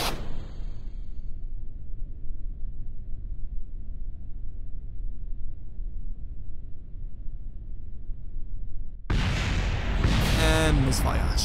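Mortar fire in Kerbal Space Program: a sharp opening burst, then a long low rumble, and a loud, dense blast near the end.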